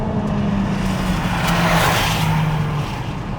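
Honda Civic Type R Sport Line engine revving hard in third gear, a loud sustained roar that rises in pitch over a few seconds with road and wind noise.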